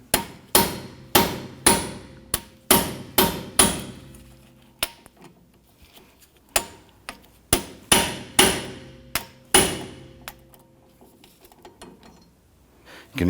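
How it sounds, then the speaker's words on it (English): A hammer repeatedly strikes an impact screwdriver to loosen screws while replacing rear wheel cylinders on a 2017-2020 Hyundai Elantra. The sharp metallic blows come in quick clusters with pauses between them, close and loud. "We're going to use an impact screwdriver here to go ahead and loosen these."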